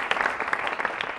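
A short burst of lively clapping from the audience of a live Spanish-language TV interview, individual claps crackling through a dense, even wash of applause.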